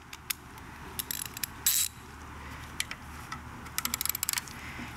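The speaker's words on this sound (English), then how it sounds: "You're going to use your 13mm socket and ratchet." Socket ratchet with a 13mm socket working the alternator belt tensioner on a 1999-2005 VW Jetta mk4, giving short bursts of sharp clicking pawl ticks in several quick runs, close up, with no talk.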